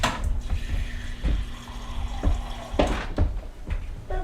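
Water poured into a container while stocking a pantry with apples, a gurgling liquid stream with a few clinks and splashes, fairly close, no talking.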